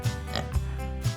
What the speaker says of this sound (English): What animal says oink? Yeah, a pig.